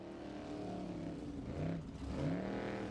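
Off-road race car driven by Valgeir Reynisson in an off-road competition, engine roaring and revving with rising and falling pitch as it climbs, loud and continuous throughout, no talking.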